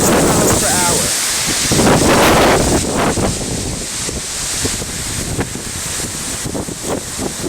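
Hurricane-force wind gusts roaring on Long Island, buffeting the microphone with loud rushing blasts that swell and ease over several seconds, with a person speaking through part of it.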